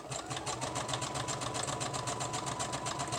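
Sewing machine stitching packing paper onto a file folder for a handmade journal, running steadily at close range with a fast, even needle rhythm and motor hum, nothing else heard.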